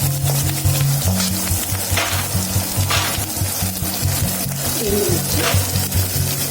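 Cumin, chillies and asafoetida frying in hot oil, a loud close-up sizzle with crackling pops and the scrape of stirring throughout, no voices.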